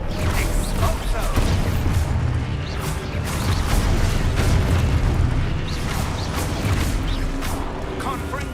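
Expulso explosion spell in the Hogwarts Legacy video game: repeated heavy booms and crashing blasts over a rumbling low roar, loud and sustained, with a voice speaking over the action.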